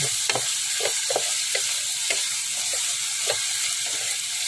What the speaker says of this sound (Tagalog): Gigisahin lang natin yan hanggang sa maluto guys